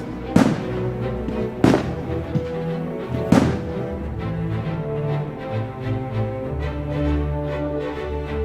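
Fireworks boom and crackle in the distance, three sharp bursts echoing over a low rumbling background.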